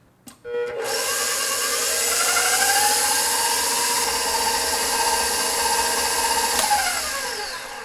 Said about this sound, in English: And we'll mix this all together too